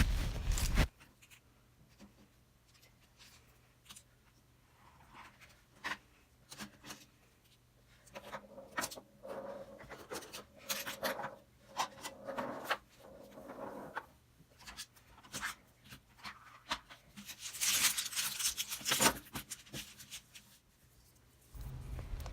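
Pens scratch across paper in short, faint, scratchy strokes and bursts separated by quiet pauses, with a louder scribbling stretch near the end.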